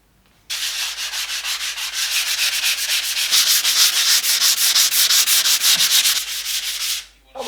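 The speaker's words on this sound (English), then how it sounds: "I now need to sand a little bit of the leftover wallpaper down" A sanding block scrubs leftover wallpaper on a wall, producing steady, close, rhythmic back-and-forth rasping strokes for several seconds before stopping abruptly.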